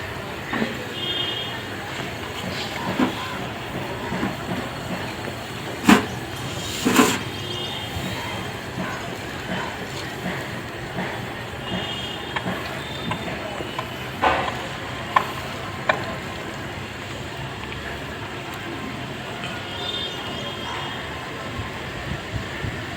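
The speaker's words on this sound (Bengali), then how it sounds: "আস্তে আস্তে গ্যাস ছাড়বো।" R-32 refrigerant gas hisses steadily from an inverted cylinder while an air conditioner is charged, a soft continuous sizzle broken by occasional clicks and clanks, with some talking.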